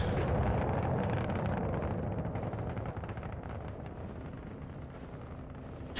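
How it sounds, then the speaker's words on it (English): A torpedo launched and detonating in a video game, a loud rumbling explosion that starts strong and slowly decays into a long, rolling roar with no talk over it. "Torpedo away."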